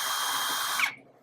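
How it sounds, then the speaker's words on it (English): Cold welding on thin sheet metal with the welder set very low, a dense continuous crackling hiss that sputters and pops near the end before cutting off, close and loud. "You can hear that welder popping back because it's a cold weld."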